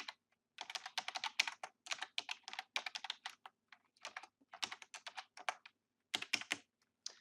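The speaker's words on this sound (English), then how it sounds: "and I type in my name." Typing on a computer keyboard in bursts of crisp, close key clicks with brief pauses between words, quiet surroundings and no voices.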